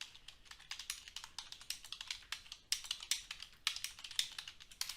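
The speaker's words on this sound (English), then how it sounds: "as I'm typing information into a spreadsheet" Rapid, uneven typing on a computer keyboard while entering data into a spreadsheet, crisp clicking keystrokes in quick bursts with short pauses, close and steady throughout.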